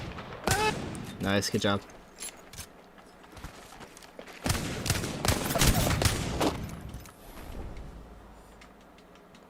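Sharp bursts of gunfire in a battle-royale shooter game, a few quick volleys early, then a heavier sustained exchange in the middle before fading, with a player speaking briefly over the shots.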